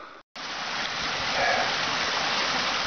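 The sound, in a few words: mountain creek water flowing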